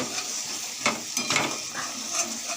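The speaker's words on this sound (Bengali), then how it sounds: "এই যে মশলা কষাচ্ছি" Spices sizzle softly as they are fried down in a pan with meat and onions for chicken kosha, with a few louder stirring scrapes rising over a low, steady hiss.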